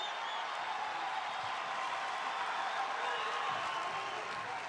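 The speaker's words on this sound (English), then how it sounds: "And that brings this Hawkeye crowd to life." Crowd at a Big Ten college wrestling dual meet between Minnesota and Iowa applauding and cheering after a takedown and mat return, a steady distant roar of clapping and voices filling the arena.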